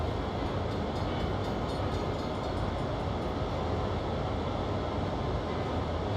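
A train in a video game rolls along steadily, a continuous rumbling drone with faint rhythmic clatter of wheels on track.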